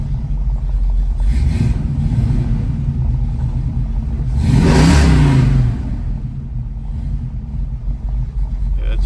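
A 1966 Mustang with a 289 V8 running rough after a cold start, held on the throttle, its low uneven rumble swelling into a brief rev midway before settling back, close and loud.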